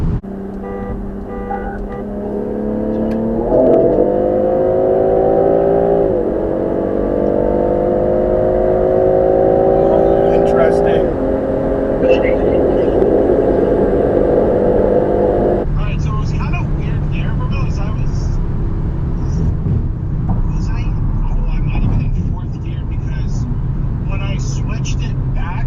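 2024 Audi RS3 and BMW M340i xDrive accelerating hard side by side in a race, engine note climbing through gears with clear shift drops, then quieter cruising rumble with faint voices near the end.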